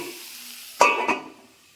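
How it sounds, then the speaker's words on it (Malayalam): A spoon stirs taro-leaf greens (chembin cheera) frying for a thoran in a pan, giving two quick scraping, sizzling strokes close by, then quiet. "ചിക്കുമല്ല, അടിക്ക് കൂട്ടി ഇളക്കി ഇങ്ങനെ ഒന്ന് മറച്ചിട്ട് കൊടുക്കണം"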